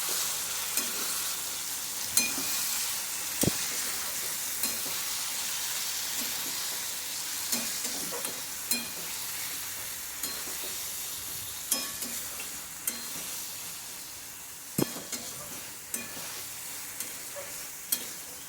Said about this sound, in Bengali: ভালোভাবে নাড়াচাড়া করে আবারও মিশিয়ে নেব